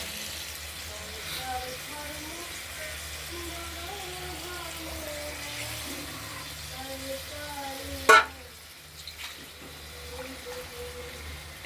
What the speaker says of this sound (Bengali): সেদ্ধ মাছগুলো আমরা দিয়ে দিলাম একটু ঝোলে ফুটবে মাখা মাখা হবে